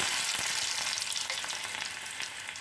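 Fenugreek seeds, dried red chillies and sliced shallots fry in hot oil for a fish curry tempering, giving a dense, steady crackle and hiss, close and continuous without voices.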